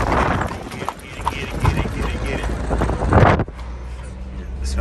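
Steady clip-clopping of an Amish horse-drawn buggy's hooves on pavement with road noise, fairly close, fading into a quieter hum near the end.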